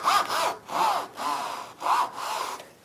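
A hand saw cuts through Queensland maple timber in four steady strokes, each a loud rasping pass with short gaps between them, close up and with no talk.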